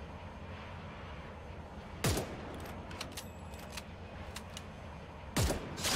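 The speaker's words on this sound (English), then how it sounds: "those gunshots didn't sound like they were at me" Gunfire in the Free Fire battle royale game: two sharp, loud shots stand apart about three seconds, over a steady hiss of background game noise and a few faint clicks.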